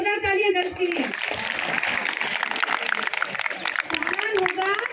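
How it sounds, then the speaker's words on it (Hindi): Dense applause from a group of students, praising the girls at a traffic-rules awareness session, fills the room loud and steady after a brief voice at the start. "जोरदार तालियां गर्ल्स के लिए"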